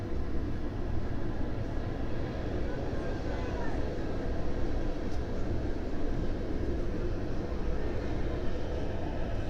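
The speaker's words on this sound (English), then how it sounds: "So not only do you get a lot of noise from that train, also the ground shakes." A train rumbles steadily past a baseball field during a Sabre Dogs at Hastings Sodbusters game, a loud continuous low roar filling the whole stretch with faint crowd or talk beneath.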